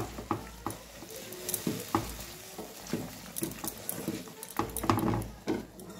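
A carrot dish is stirred in a pan after a little of the boiled carrot water goes in, giving soft irregular scraping strokes over a faint sizzle, fairly quiet and close, with no talk.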